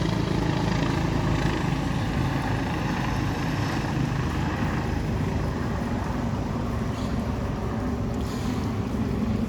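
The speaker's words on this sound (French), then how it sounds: "il y a un avion, un hélicoptère" Helicopter flying overhead, a steady broadband rotor and engine rumble that stays loud and even throughout, with no talk over it.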